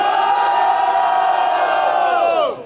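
Crowd at a Brazilian rap battle grand final roars with loud sustained cheering and shouting, steady throughout and then cutting off abruptly near the end.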